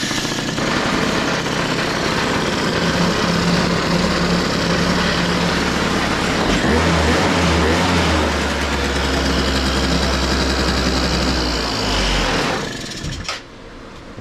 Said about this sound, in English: My first running two-stroke Yamaha Zuma